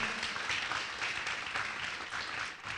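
A church congregation applauds, a steady, even wash of many hands clapping at moderate volume throughout, without voices on top.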